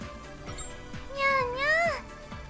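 A female game character's voice imitating a cat's meow in Sword Art Online Fatal Bullet: one drawn-out, rising and falling 'nyaa' over quiet background game sound.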